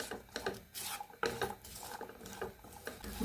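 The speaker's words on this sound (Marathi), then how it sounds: "परतून घेऊया परत." Vegetables with papdi beans being sautéed in a pan for bhogi bhaji, with a spoon scraping and stirring in short irregular strokes close up, no talk.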